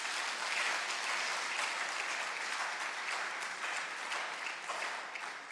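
A hall audience at a West Africa food system resilience programme launch in Prempeh Assembly Hall, Kumasi, breaks into steady, dense clapping that holds loud and even throughout, easing slightly near the end.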